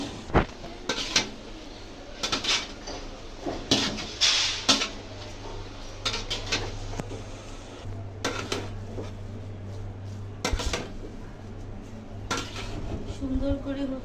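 Biryani cooking with Radhuni masala: meat and half-cooked rice stirred together in a pot, with repeated scraping and clinking of a spoon against metal over a steady low hum, in irregular bursts.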